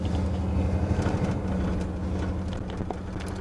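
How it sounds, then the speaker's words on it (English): A 1979 Ford Bronco truck's engine drones with a low, steady hum while driving, a continuous rumble with faint rattles over a few seconds and no voices. "Because I drive a 79 Ford Bronco."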